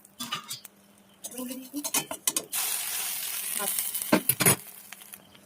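Batter fritters of kakrol (spiny gourd) fry in a wok, with intermittent sizzling, stirring and utensil clatter against the pan, and a denser hiss toward the end.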